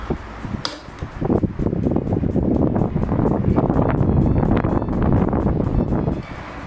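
A National Panasonic electric fan, fitted with a replacement motor, runs with a close, rushing whoosh of moving air and a rapid fluttering rattle that holds steady throughout.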